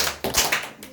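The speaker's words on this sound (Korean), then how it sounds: "여러분 박수 3번 칩시다" Students in a high school math class clap together in a short burst of a few sharp claps, close and loud in a classroom.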